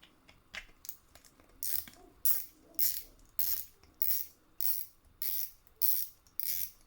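Handle of a 2021 Shimano Twin Power C3000XG spinning reel being cranked, a run of about ten evenly spaced rhythmic whirring, ratcheting turns, close and clear with no talking.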